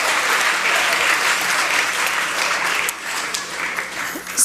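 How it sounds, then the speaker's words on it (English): A school morning-meeting group claps together, a loud, even burst of applause that carries on for several seconds, thins briefly and swells again at the close. "So give yourselves a round of applause for all your great work."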